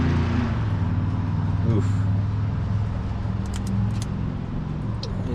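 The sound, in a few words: 1948 Pontiac straight-eight engine cranking after ignition on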